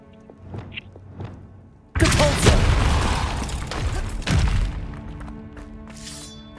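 A Confringo blasting spell cast in Hogwarts Legacy bursts in with a sudden loud crash and shattering debris, followed by a second heavy thud, after a few faint soft clicks.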